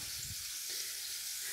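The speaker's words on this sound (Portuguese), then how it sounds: "eu tô aqui com a minha panela elétrica já aquecida. E a gente vai colocar um pouco de azeite" Olive oil hits a preheated electric pan and gives a faint, steady hiss of sizzling that runs the whole time without pause, with no talking over it.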